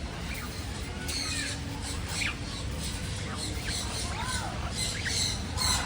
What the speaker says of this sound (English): That's another bird.